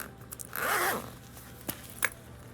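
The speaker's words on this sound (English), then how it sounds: "So top zipper, let's open it up." A top zipper on a bag is pulled open in one smooth, close, rasping stroke lasting about half a second, followed by a couple of small clicks and rustles from the handled bag.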